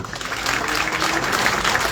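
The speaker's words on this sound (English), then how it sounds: "Give them a big round of applause." Crowd at a political rally in Busoga applauding supporters, a loud continuous wash of clapping with some cheering texture, sustained throughout without a break.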